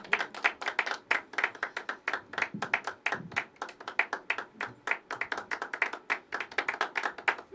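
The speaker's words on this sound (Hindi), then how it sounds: "अनहद के लिए जोरदार तालियां।" Audience clapping at a poetry open mic at The Habitat, rhythmic and fairly sparse, with distinct individual claps in a steady pulse like a small crowd clapping in unison, with no talk over it.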